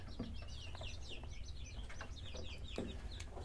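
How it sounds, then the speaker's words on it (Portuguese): A Sebright hen clucks and squawks in quick agitated bursts while being lifted, close and fairly faint, with rustling and low background rumble. "vou levantar essa galinha aqui"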